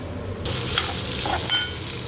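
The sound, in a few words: stir-frying tempered rice in pan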